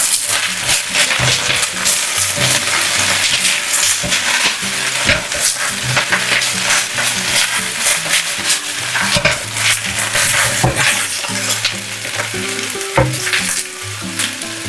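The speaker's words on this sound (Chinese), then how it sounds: "翻炒卷心菜约1分钟。" Cabbage and chicken stir-fried in a wok, with salt and cooking wine added, sizzle loudly and steadily throughout, with spatula scrapes and the occasional clink of metal on the pan.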